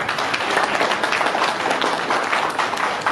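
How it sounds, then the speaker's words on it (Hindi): A crowd applauding, dense steady clapping throughout at a consistent, fairly loud level. "उनके लिए बेशुमार तालियों हो जाए।"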